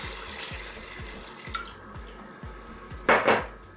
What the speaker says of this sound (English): Gonna get some more water in there.